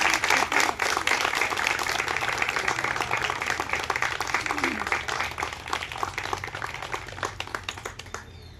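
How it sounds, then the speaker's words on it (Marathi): A room of trainees in a municipal value-education training session clapping, dense applause close by that thins into scattered claps toward the end, with voices mixed in. "उमेदवार आलाय, टाळ्या वाजवा जरा."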